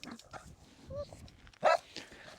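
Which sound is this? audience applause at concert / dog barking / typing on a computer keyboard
dog barking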